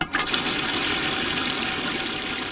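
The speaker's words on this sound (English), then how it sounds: "This is the Johnson Pump Portable Aeration System, and what is really cool about this, it keeps your minnows really alive." Steady bubbling and rushing water from a Johnson Pump portable aeration system in a minnow bait container on a boat, a continuous close, fairly loud wash of bubbles heard alone for a couple of seconds.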